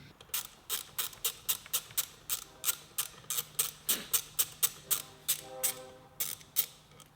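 Ratchet wrench turning out the 8mm steering wheel airbag bolts on a 2011-2014 S197 Ford Mustang, a close, even series of sharp clicking strokes, about two per second, with no talk.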